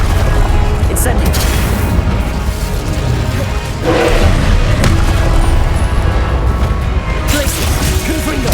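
The Incendio fire spell is cast in Hogwarts Legacy amid dense combat: loud, continuous booming blasts and crackling bursts, with a sharp impact near the four-second mark and a shouted voice mixed into the din.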